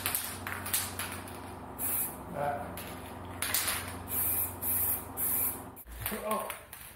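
An aerosol can of Spray.bike paint hisses in repeated short bursts as it coats a mountain bike frame. The bursts are close and steady, with a person talking between them.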